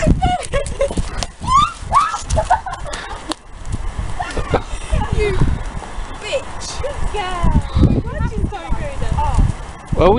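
A horse's hooves clip-clop at a walk or trot around a yard, the uneven rhythmic knocks running through the whole stretch beneath near-continuous talking and scattered animal calls.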